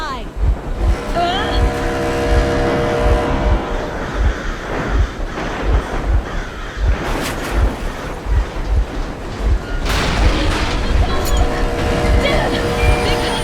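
Vehicle engine running in the first-person shooter Metro Exodus, a rhythmic low chugging throb heard under a tense game soundtrack, with bursts of louder noise midway and at the end.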